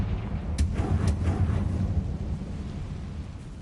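A Confringo fire spell explosion in Hogwarts Legacy, a rolling thunder-like rumble with a few sharp crackles early on, holding loud for a few seconds then easing off.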